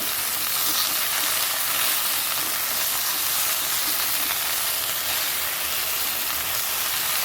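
Tomatoes fry in a hot pan with a loud, continuous sizzle and hiss that holds steady and close throughout, with no voices over it.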